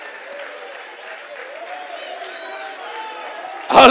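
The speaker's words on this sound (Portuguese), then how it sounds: "fique em pé e aplauda ao Senhor" A church congregation applauding during a sermon: steady mid-level clapping from many hands fills the room throughout, swelling louder in the final moment.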